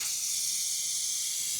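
A steady, loud hiss of a hose spraying water onto the engine of a 1970 Chevy C20 pickup truck, continuous and close throughout with no talking.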